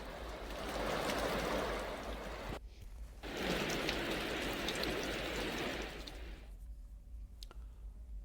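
Rain falling in the lower area of Uttarkashi, Uttarakhand, a steady broadband wash heard alone, broken by a brief lull in the middle and fading quieter toward the end.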